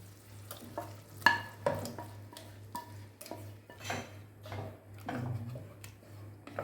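Mashed horse gram dal is stirred into a simmering masala gravy, with a spoon scraping and knocking against the pot over a gentle sizzle and a steady low hum, close and moderately quiet.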